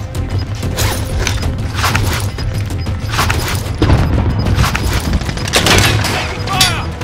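Gunfire in Call of Duty Warzone, a loud, continuous barrage of overlapping shots and booms with mechanical clatter, under brief in-game voice lines.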